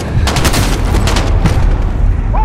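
Gunfire in the video game Call of Duty: Modern Warfare, loud rapid bursts of shots that crackle in a close, repeating rhythm across the short stretch.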